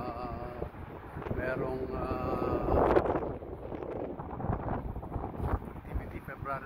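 Gusty wind rumbles into the microphone on a Las Vegas street, a low, uneven roar that swells and fades under someone talking.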